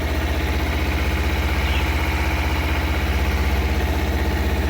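A Kawasaki Ninja 300 motorcycle engine idles in neutral with a steady, rhythmic low putter, close and fairly loud, running alone without talk.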